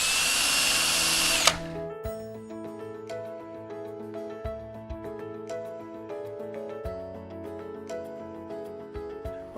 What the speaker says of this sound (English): use a 3/16 drill bit